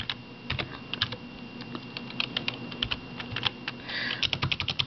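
Rapid typing on a computer keyboard while entering an IP address, a close, steady patter of individual key clicks with brief pauses and a quick burst of keystrokes near the end.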